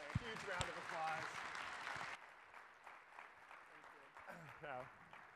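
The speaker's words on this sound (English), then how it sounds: "please give my good friends, Diane Tavner and Benjamin Riley, a huge round of applause." Audience applause for two guests at an education talk, a dense wash of clapping for about two seconds that cuts off abruptly, followed by a voice speaking over a quieter room.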